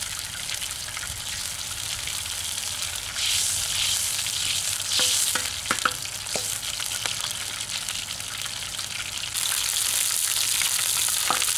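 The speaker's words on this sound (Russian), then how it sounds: "Почки тоже жарю не больше полминутки, но максимум минуту, если кусочки были толстые." Lamb kidneys frying in a hot pan, a steady, dense sizzle that swells louder at moments, with a few faint clicks from moving the pieces, heard close and alone.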